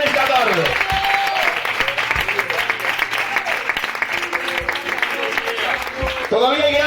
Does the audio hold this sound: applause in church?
yes